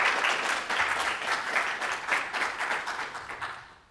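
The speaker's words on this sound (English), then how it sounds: "A round of applause to welcome Clinton" Audience applause welcoming a speaker to the stage at a technical conference talk on editing programs via abstract syntax trees, a steady dense patter of many hands that holds for about three seconds and then tapers off toward the end.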